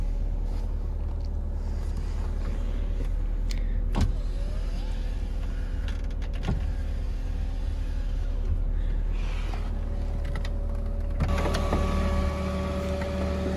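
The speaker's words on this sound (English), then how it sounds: "Electric window" Electric window motor on a 1997 BMW Z3 hard top convertible, a steady mechanical whirring hum running throughout, punctuated by a few sharp clicks and a brief change in tone near the end.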